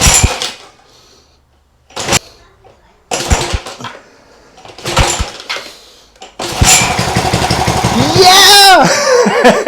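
A homemade outboard motor built from a lawn mower engine sputters briefly in short bursts, then catches and runs loud and close with a rough, steady drone. People talk and laugh before it starts.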